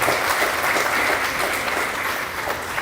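Dense, steady applause from a meeting audience thanking the volunteers at a molecular virology conference, moderately loud and even throughout with no pauses.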